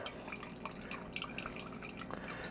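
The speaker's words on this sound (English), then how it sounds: "All right, so let's get this poured out here." Wine pours from a Magnum bottle in quick, faint glugs and drips, an irregular liquid trickle close by with no voices.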